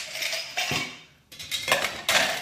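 Metal pots clink and rattle as they are handled, several bright metallic clatters in bursts close to the microphone, with a short pause between them.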